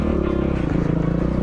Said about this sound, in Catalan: Només sent clanc, clanc, clanc de coses que ballen de la moto.